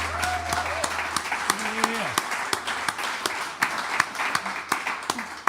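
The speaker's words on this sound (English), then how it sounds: "Y'all give a great big round of applause to Will Ross back there on the bass as well." Audience clapping for bassist Will Ross during a live bluegrass radio broadcast, a steady round of applause with sharp individual claps standing out, over faint instrument tones near the start.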